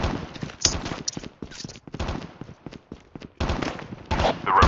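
Rapid bursts of gunfire in the mobile shooter Call of Duty Mobile, with dense volleys of shots crackling in clusters and short pauses between them, loud and close, with faint talk underneath.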